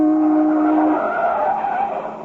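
A car skids in a near miss as a radio drama sound effect, a loud close tire squeal sliding in pitch and fading over about two seconds, with no talk.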